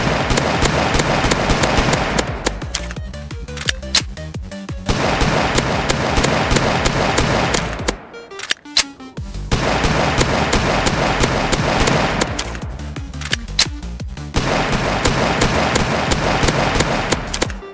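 Desert Eagle pistol shots in the Roblox game A Dusty Trip, loud sharp reports fired in quick bursts with brief pauses between volleys, dominating the mix with no talk over them.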